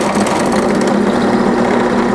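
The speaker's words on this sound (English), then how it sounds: "this is why I'm drilling it this way" A power drill boring through a router baseplate blank held on a piece of wood, a steady high motor whine with a constant buzzing tone, close and continuous throughout.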